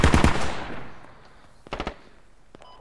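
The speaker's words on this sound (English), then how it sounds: "we got hostile fire coming from the south still" Gunfire in the tactical shooter Squad: a loud close burst of automatic fire opens and rings out into echo, followed by a brief farther triple burst and a faint metallic click, with no voices.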